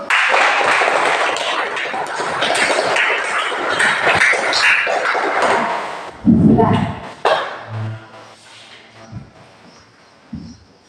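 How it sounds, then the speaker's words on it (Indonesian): Students in a classroom give another round of applause, a thick wash of clapping that lasts about six seconds, then fades as a voice starts talking close by. "kita berikan aplaus sekali lagi untuk"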